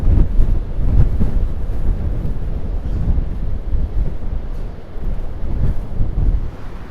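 Steady wind buffeting a microphone on a clifftop above a beach, a continuous low roar with gusty rumble throughout, no voices.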